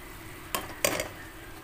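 Okra in sauce is stirred in a pan, giving two quick scraping strokes over a quiet, low simmer, close and faint, with no talking.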